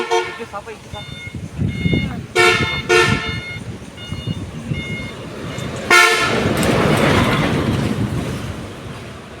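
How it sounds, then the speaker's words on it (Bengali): A passing vehicle on a road honks its horn in several short toots, then gives a longer blast, with engine and traffic noise around it and voices nearby. "আনন্দ গাড়ি আসতেছে, এক সাইডে যাই।"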